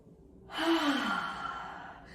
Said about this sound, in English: bringing our attention to the present moment with a wonderful deep breath in